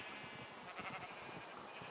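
Sheep bleat faintly in a blocky video-game sheep farm, soft wavering cries repeating over a low, steady background, with no talk.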